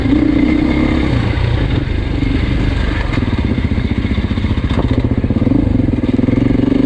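A 2024 Beta 480 RR dirt bike rides through deep mud, its single-cylinder engine chugging loud and close in a steady, pulsing drone with slight revs throughout.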